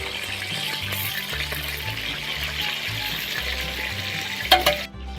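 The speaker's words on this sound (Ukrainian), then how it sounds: "Поки ковбаски наші смажаться" Steady, close sizzling of sausages frying in a hot pan over an open fire, a continuous crackle with a low hum beneath and a brief clatter near the end.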